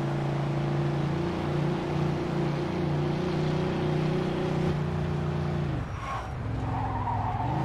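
A car in the Mafia 2 video game drives fast with a steady, loud engine drone, then its tires squeal in a brief skid near the end, with no talking.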